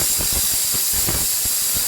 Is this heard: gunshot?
no